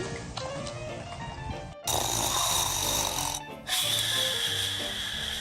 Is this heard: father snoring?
yes